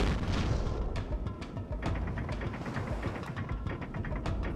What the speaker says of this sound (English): That cannon, like, exploding noise just sounded like somebody blowing into a mic.